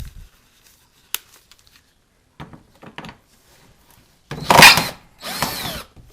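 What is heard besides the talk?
power drill removing Torx fasteners from underbody panel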